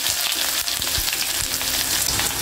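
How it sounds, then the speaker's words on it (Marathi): Onion drops into hot oil already crackling with cumin and mustard seeds, producing a loud, close, dense sizzle that fills the short moment. "आता ह्यामध्ये कांदा घालायचा"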